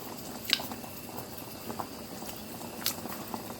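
Potatoes boil in a pot at home, a soft, continuous bubbling hiss broken by a few faint pops and clicks, quiet and close with no talking.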